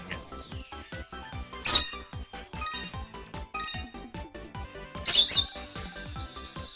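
Bird chirps in the rhythm game Hatsune Miku: Project Diva f, quick high tweets scattered over busy game music with a steady beat.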